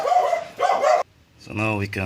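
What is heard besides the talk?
dog barking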